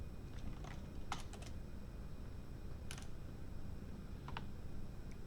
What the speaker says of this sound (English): I gotta type this correctly.